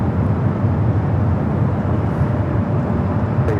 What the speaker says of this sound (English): Emirates now pushing it back in the Grand Slam tennis livery, flight 216